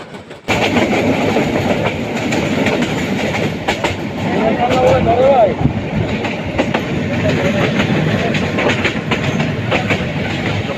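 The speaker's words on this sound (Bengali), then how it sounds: "ঢাকা থেকে সেরে আসা কক্সবাজার গ্রামী কক্সবাজার এক্সপ্রেস ট্রেনটি দ্রুত গতিতে এগিয়ে চলছে" Cox's Bazar Express, a long mail train bound from Dhaka to Cox's Bazar, rushes past at speed with a loud, steady roar and rhythmic wheel clatter filling the whole stretch.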